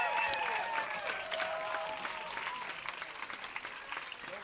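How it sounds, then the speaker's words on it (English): Warm applause from a crowd at a dance competition's Jack and Jill finals, steady clapping that gradually thins out, with a few faint voices mixed in. "Big applause for my mother, Yarel."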